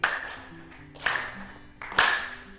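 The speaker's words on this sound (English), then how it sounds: "So I want everyone to start clapping." Audience members clap slowly in unison, three sharp claps about a second apart, close and moderately loud over faint low background tones.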